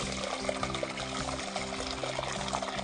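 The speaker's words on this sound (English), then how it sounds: "We will cover that with water, because that's going to cover our meat to cook the corned beef." Water pours steadily into a pot over a raw corned beef for thermal cooking, a continuous splashing rush with a low background hum and no pauses.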